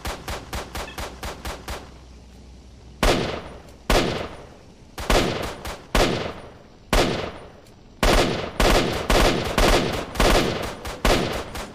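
Automatic gunfire from the video game S.T.A.L.K.E.R., loud close bursts of rapid shots: a quick rattling string, then repeated short volleys with brief gaps between them, no talk.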